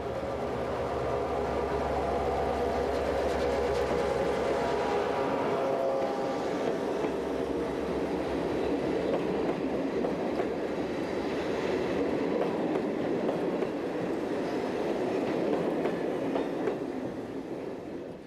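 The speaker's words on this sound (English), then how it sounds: "All trains on this route are rostered for Class 55 haulage and are formed of a standard rake of M4 design" Belgian Class 55 diesel locomotive hauling a rake of M4 coaching stock on the line via Trois-Ponts and Gouvy, a loud continuous engine rumble and rolling wheel noise rising and shifting as the train passes close by.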